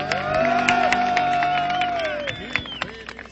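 An audience cheers with a sustained, whooping voice held over a steady crowd roar, with scattered shouts near the end.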